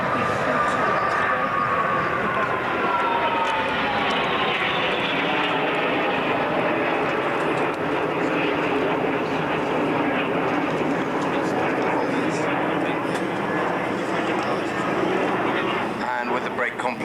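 A fixed-wing aircraft roars past at an international airshow at Boscombe Down in 1992, a broad sustained engine rush with a slowly falling pitch, while a commentator talks over it.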